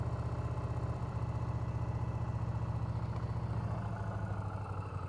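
A motorcycle engine runs steadily with the throttle held during riding practice, a continuous low mechanical drone with a constant pulsing rumble that stays close and even throughout.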